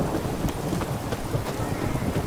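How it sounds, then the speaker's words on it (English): Steady rain pours in The Witcher 3: Wild Hunt with a low thunder rumble beneath, dense and close with scattered louder drops throughout. "It's raining, of course it's going to be damp."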